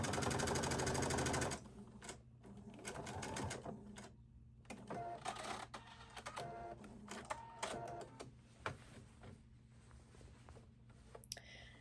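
A sewing machine stitching fabric for a Hawaiian shirt: a loud steady run of stitching at the start, then a series of shorter bursts of stitching and clicking with pauses between them.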